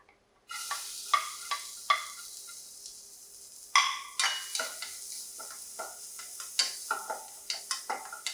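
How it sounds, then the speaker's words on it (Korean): Garlic and onion are sautéed in melted butter with a bright steady sizzle. Repeated scraping and clacking stirs of a utensil against the pan land every half second or so, close and clear, with no voices. "자, 버터 녹여주시고요. 자, 마늘 볶아주시다가 자, 양파 볶아주세요."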